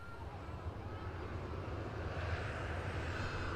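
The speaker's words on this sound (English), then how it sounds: "to catch this this Ryanair departing" Ryanair Boeing 737 airliner taking off from Manchester Airport, a steady distant roar of jet engines holding level throughout, with faint broadband rumble and no clear speech.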